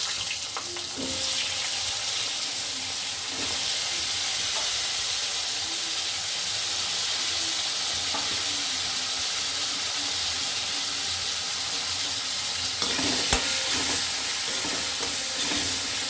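Potatoes frying in a pan give a steady, broad hiss of sizzling oil that runs unbroken throughout, with occasional soft scrapes of stirring, close and moderately loud.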